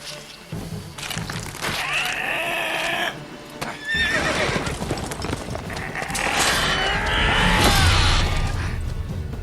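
A horse in The Witcher 3 lets out loud, strained neighs and whinnies in a couple of bursts, mixed with cracking, rustling game effects and background rumble.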